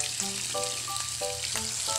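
Thin slices of tuna belly fry in hot oil in a pan, giving a steady close sizzle with faint crackles and light scraping, and no talking.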